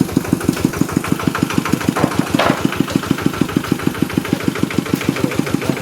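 A tractor engine idles steadily close by, its pulsing exhaust thumping in an even, rapid rhythm throughout with no voices over it.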